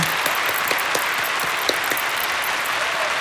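A crowd applauding steadily throughout, dense clapping with no voices on top.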